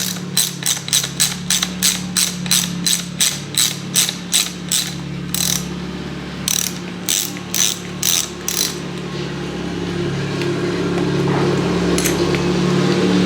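Socket ratchet undoing the lever nut on a 2000 Kawasaki KX125, rapid clicking pawl bursts repeated in quick runs, close and clear, then fading into a low steady hum with no talking.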